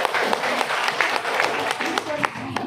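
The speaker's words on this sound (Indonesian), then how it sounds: "tepuk tangan dulu buat kita semua" Parents at a school welcome gathering clap together, a loose patter of distinct hand claps at close range with a voice murmuring faintly underneath.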